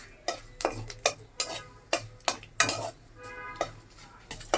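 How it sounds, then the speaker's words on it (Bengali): Panch phoron spices frying in a pan, with a spoon scraping and knocking against the metal in a regular rhythm of sharp strokes over a soft sizzle, close and moderately quiet. "এই এক চামিচের মতো পাঁচফোড়ন দিয়ে দিলাম এগুলো সবগুলি আমি এখন একটু ভাজবো"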